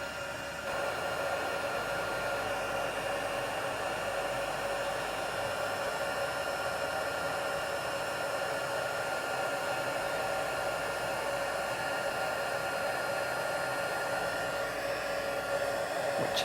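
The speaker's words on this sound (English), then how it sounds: "the best thing to do is heat the embossing powder from behind" Heat gun blowing steadily while melting embossing powder from behind a craft piece, a constant whooshing roar with a faint whine, held at even strength for the whole span with no talking.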